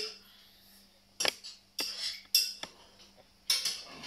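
A utensil stirs a dish in a metal pot, giving four or five separate scraping clinks with quiet gaps between them and a faint low hum underneath.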